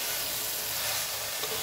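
Curry masala with garam masala frying in a pan gives a soft, steady sizzle with faint stirring, quiet and continuous throughout, no talking.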